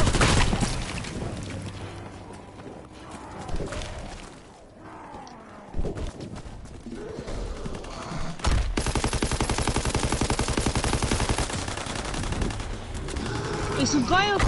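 Machine gun fire in a zombies video game. Dense, rapid bursts run loud through the clip, with heavier booms at points and voices talking under the gunfire.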